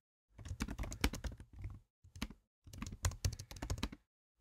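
A message is typed on a computer keyboard in rapid bursts of clicking keys, separated by brief silent pauses, heard close and alone.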